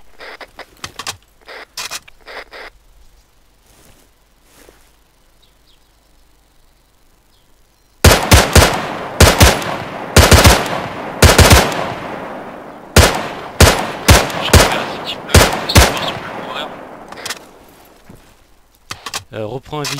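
Gunfire bursts in the Arma 3 video game, sharp rapid cracks in short volleys, faint and sparse at first then loud and dense in the second half, with voices talking in French over it.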